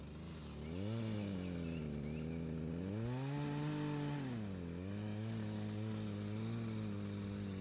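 A chainsaw engine drones loudly and steadily while cutting down trees to widen a driveway, its pitch rising and falling as the throttle revs up and eases back.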